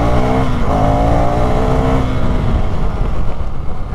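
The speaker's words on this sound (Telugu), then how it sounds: "ఒకసారి నేను స్పీడ్గా వెళ్ళి బ్రేక్స్ అయితే వేస్తా." A 2024 Svartpilen 401 motorcycle with Bosch ABS roars loud and close at speed, its engine note dropping as it brakes hard.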